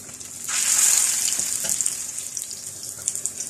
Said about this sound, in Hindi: जो पैटी हमने तैयार किए हैं इन्हें हल्की आँच पर फ्राई कर लेते हैं।